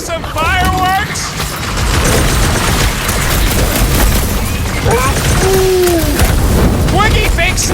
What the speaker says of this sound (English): See some fireworks?